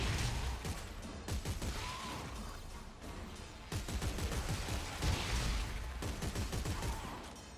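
Force gun blasts from the sci-fi shooter Dead Space 3, a dense run of loud concussive shots and crashing impacts repeating through the scene with game effects underneath.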